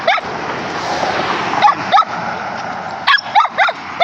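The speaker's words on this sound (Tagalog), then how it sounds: "Sinalubong ako ng mga aso." Dogs yip and bark in short, excited bursts at close range over a steady rushing background noise, with several quick barks near the end.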